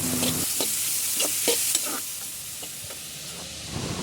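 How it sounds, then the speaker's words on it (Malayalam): Garlic, ginger and green chillies sautéing in a pan, a steady sizzle with several sharp stirring scrapes and clinks of a utensil, close and moderately loud, with no talking. "വെളുത്തുള്ളിയും ഇഞ്ചിയും പച്ചമുളകും തൊണ്ടമുളകും ഇട്ട് കൊടുത്തിട്ട് നന്നായിട്ട് വഴറ്റിയെടുക്കാം"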